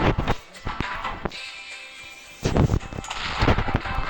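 Automatic rifle fire in the Ukrainian shooter video game Nen'ka: sharp repeated shots in loud bursts, a pause in the middle, then another dense burst with no talk over it.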